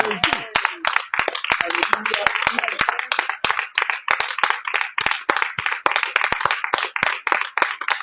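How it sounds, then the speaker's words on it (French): A church congregation at an evening prayer service claps steadily and rhythmically in unison, close and loud, with voices singing or calling out beneath the sharp, even beat. "On acclame le Seigneur."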